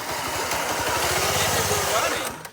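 A Predator 212 go-kart engine on a monster-truck-style kart sputters and catches, running with a steady close throbbing rumble for a couple of seconds before fading out.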